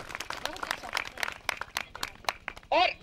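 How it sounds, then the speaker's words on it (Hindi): Scattered, uneven hand claps from an audience in a village in the Thar desert of Rajasthan, heard under a speaking voice, with a brief higher cry near the end. "जोर से बजाइए इनके लिए ताली"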